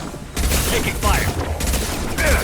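Gunfire in a Mass Effect 2 firefight, a dense burst of shots and booms that starts abruptly and keeps going, with voices and game chatter mixed in over the clatter.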